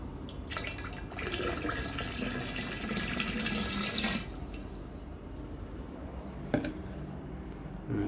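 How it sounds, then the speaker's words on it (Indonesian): AB Mix hydroponic nutrient solution is poured into a water drum as a steady, close splashing stream. It runs for several seconds, then settles into a softer trickle with a single splash near the end, with no talk. "Kita tuangkan ke dalam drum."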